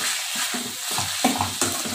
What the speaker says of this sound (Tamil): நல்லா மிக்ஸ் பண்ணி வச்சுக்கலாம்.